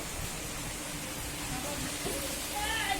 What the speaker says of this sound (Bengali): বৃষ্টি বৃষ্টি